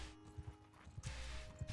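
Horse hooves clop in Mount & Blade II: Bannerlord, a quiet, rhythmic series of soft thuds repeating at a steady gait over low game ambience.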